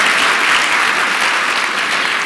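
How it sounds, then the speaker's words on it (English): Audience applause for the first lady fills the whole stretch, a loud, dense, steady wash of clapping with no voices over it. "A round of applause for our first lady."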